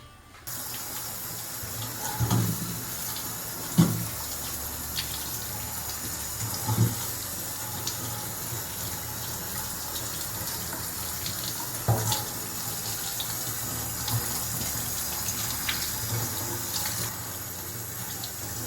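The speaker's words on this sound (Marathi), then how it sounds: "सगळ्यात आधी मी याला धुवून घेते." Tap water runs steadily into a sink as mushrooms are washed under it, with occasional splashes and knocks over the constant flow, close by.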